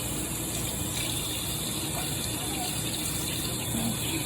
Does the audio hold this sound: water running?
yes